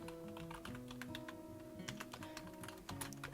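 Soft keystrokes tap on a computer keyboard in a quick, uneven patter, faint and close over a steady background hum, with no talking.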